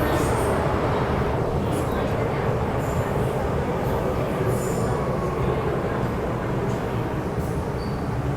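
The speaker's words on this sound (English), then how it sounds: "Here comes our M train." A Hong Kong MTR M-train pulls into an underground platform, a loud steady roar of wheels on rails with faint squeals, while muffled voices sound in the background.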